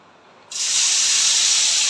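Jackfruit chips dropped into hot oil set off a sudden, loud, steady frying hiss about halfway through, continuing strongly after a quieter start.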